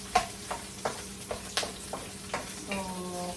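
Ginger going into a pot of pork rib sinigang soup on the stove, with several sharp clunks and stirring knocks spaced through the moment over a low steady simmer and a faint hum.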